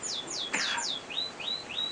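Caged green finches in a bird room give a quick run of bright, descending chirps, then several short rising tweets, close and clear against a quiet background.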